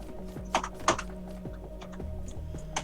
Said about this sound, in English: Are you having fun on my damn keyboard, Max?